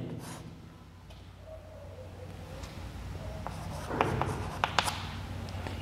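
A pen scratching on paper while an invitation is written: soft, close strokes with a few light taps, over a faint background hiss, with no talk.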